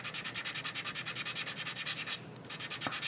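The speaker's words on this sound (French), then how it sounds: "Et puis on vient poncer comme ça, au fur et à mesure, tout doucement." A 1/48 Eduard Spitfire scale model being sanded with a soft sanding stick, giving steady rhythmic rubbing strokes, about five per second, close and fairly quiet, with a brief pause near the end.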